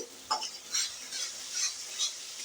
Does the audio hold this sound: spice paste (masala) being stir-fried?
yes